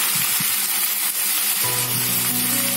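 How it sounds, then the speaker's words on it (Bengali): Vegetables fry in a little oil in a kadai for veg chowmein, giving a steady, loud, close sizzle that holds throughout and intensifies as more pieces go in, with no voices. "আর এখানে আমি কড়াতে একটু তেল দিয়ে দিয়েছি সবজিগুলোকে ফ্রাই করার জন্য।"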